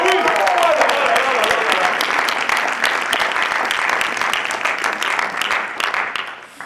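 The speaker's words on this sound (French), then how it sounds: "Je vous demande un tonnerre d'applaudissements." A large audience at the ESSEC 2019 eloquence competition final in France breaks into loud, sustained applause, a dense wash of clapping that fills the hall and fades slightly toward the end.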